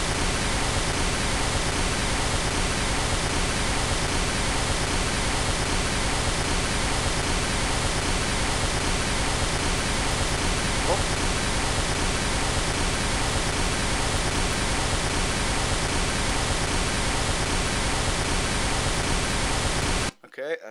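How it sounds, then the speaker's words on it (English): Pink noise test signal used for leveling mix channels, a steady full-band hiss played loud and unchanging for about twenty seconds before cutting off abruptly. "I'm going to turn the rest of these channels up one at a time against the pink noise"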